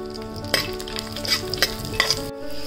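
Garlic and cashews fry in hot oil in a pan, a steady crackling sizzle broken by several sharp scraping clinks of a stirring spoon, close and with no talk.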